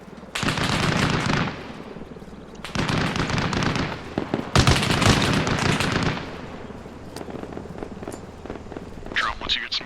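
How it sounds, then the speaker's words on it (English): Heavy machine gun fire in the video game Arma Reforger, sustained rattling bursts in long strings separated by brief pauses, loud and close, with voices chattering in between. "There's a heavy machine gun to our west."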